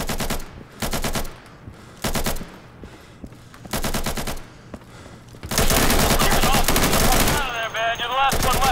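Rapid bursts of automatic gunfire crackle in short volleys in the game Insurgency, then a long sustained barrage near the end, loud and sharp with game-like sound effects.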